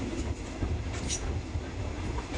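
A train rumbles along the railway near Ayutthaya station, a steady close rolling roar with faint wheel clatter, heard on its own without talking.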